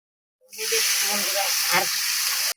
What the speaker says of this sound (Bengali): দিয়ে দিলাম মশলা একটু ভাজা হোক